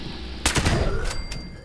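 A Gauss pistol fired in Fallout 76: a single sharp, loud electric crack with a brief ringing tail, followed by a fainter second snap, no talk.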